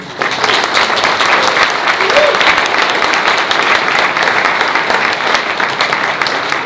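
Loud, full applause from a live group meetup audience after a speech, a thick continuous roar of clapping that holds steady from start to finish, with a faint voice briefly underneath.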